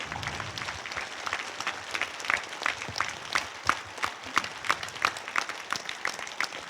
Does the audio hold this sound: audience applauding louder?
yes